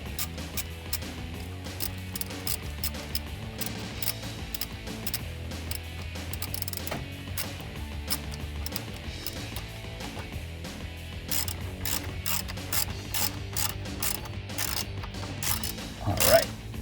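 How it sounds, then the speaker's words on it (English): Ratchet with an 8 mm socket snugging bolts on a 2017-2020 Ford F150 3.5L EcoBoost during an aFe Magnum FORCE Stage 2 cold air intake install, giving repeated quick clicking bursts close up over a steady low hum. "Cinch that down with a little bit of ratchet. These ratchets I'm using are 8 mil."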